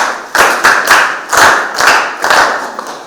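Grade 11 biology students in a classroom clap together for a classmate in short, uneven bursts, a handful of loud close claps rising and falling in a loose rhythm.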